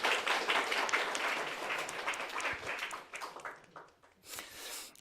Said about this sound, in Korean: 아주 잘했는데 박수를 한번.